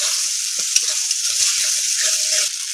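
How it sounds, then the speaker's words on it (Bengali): Ground chili, coriander and cumin with a splash of water fry in oil for a wax gourd curry, giving a steady close sizzle broken by soft stirring scrapes, with no voices. "ভালো করে কষিয়ে নেব"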